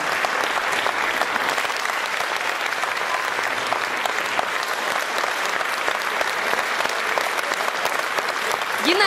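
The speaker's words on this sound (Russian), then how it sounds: "подарить вам свои горячие аплодисменты" A concert audience gives warm, sustained applause, a dense and steady wash of many hands clapping that fills the hall from start to finish, with a voice rising briefly at the very end.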